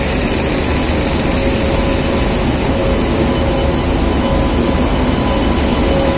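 A WAP-7 electric locomotive from the Ghaziabad shed passes with a loud, steady drone and rumble, continuous and close throughout, with a sustained tonal whine.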